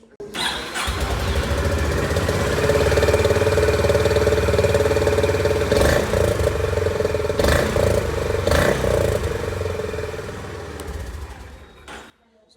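A Honda CB350 DLX Pro motorcycle idles just after a cold start, its steady exhaust thump running close and loud for about twelve seconds, with a few brief throttle blips and rises partway through before it cuts off.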